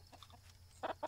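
Chickens cluck in the fantasy video game Balrum, a few short quiet clucks over a low steady background hum.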